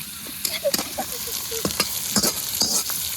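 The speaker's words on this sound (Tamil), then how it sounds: "ஆனியன் ஃப்ரை பண்ணிட்டுருக்கேன்" Onion, chilli and curry leaves fry in a pan for masala cassava, a steady close sizzle broken by repeated scraping stirs of a spoon against the metal, with no talking.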